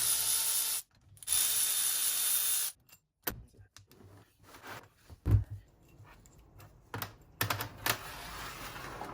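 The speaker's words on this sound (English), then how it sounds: "now you're going to take your 14mm socket and you can start taking the bolts off" Ratchet wrench with a 14mm socket loosening transfer case bolts on a Marlin Crawler dual transfer case, heard as bursts of clicking and rattling separated by brief quiet gaps, fairly close, with no talking.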